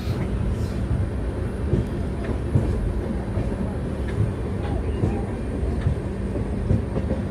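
Saraighat Express pulling out of New Bongaigaon Junction, a steady low rumble of wheels and carriages with faint rhythmic clatter, continuous and close throughout.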